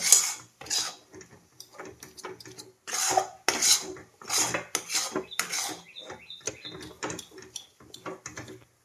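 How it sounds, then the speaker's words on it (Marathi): A mixture for a pressed vadi sweet is stirred quickly in a pot, producing a rapid run of close, scraping, rasping strokes with brief pauses between bursts. "हे सर्व टाकल्यानंतर आहे की नाही असं पटपट आहे की नाही हलवून घ्यायचं."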